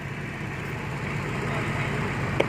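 A farm tractor's engine drones steadily under load while the machine stays stuck, a low continuous rumble with a voice talking over it and a small sharp knock near the end.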